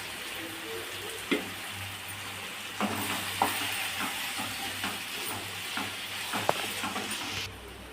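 Cleaned kadamba squid fries and is stirred in a pan for a Tamil-style varuval, a steady sizzle with a scattering of scraping spoon clacks throughout.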